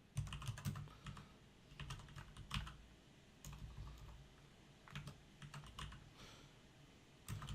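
Typing text in a Word document on a computer keyboard: bursts of quick key clicks with short pauses between words, close and fairly quiet, with no talk over it.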